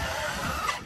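Team Corally Spark XB6 RC car racing by at speed, a steady high motor whine with a sharp louder burst at the end as it passes close.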